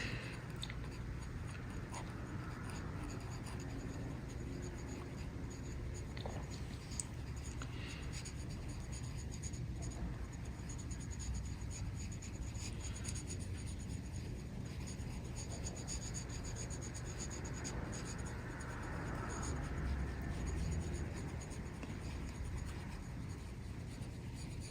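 A pencil scratches and rubs across paper in a steady, continuous drawing sound, faint and close, lasting throughout without speech.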